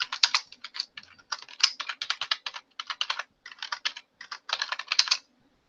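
Bursts of typing on a computer keyboard, crisp and close, with clustered keystrokes separated by brief gaps, alone without talk.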